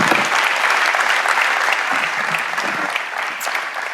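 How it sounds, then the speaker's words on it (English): An audience at a green entrepreneurship event claps for a departing speaker, a dense, lively burst of applause that stays strong and slowly eases toward the end. "give applause to Katherine Richardson."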